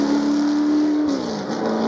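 A race car on the Goodwood Festival of Speed hill climb revs hard in a rising, steady engine note that dips at a gear change before pulling again, loud and close with no voices.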